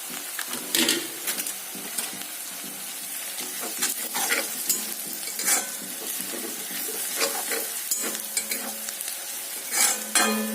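Half a spoon of cumin seeds fries in hot oil for a chicken and laai xaak dish, a constant crackling sizzle close by, with repeated scraping and clinking of a spoon stirring the pan throughout.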